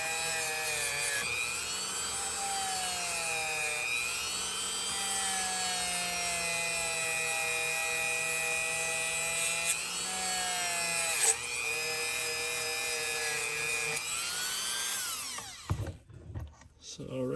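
Steady whirring power-tool tone with a rising and falling pitch as surface rust is rubbed off an old Imperial fish knife, continuous and close, cutting off near the end.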